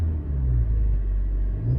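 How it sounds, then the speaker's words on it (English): A Honda Civic Type R FK8 engine rumbles steadily at idle, a deep, loud, close drone with slight swells hinting at light revving, no voices over it. "all you can hear is the engine rev at this point"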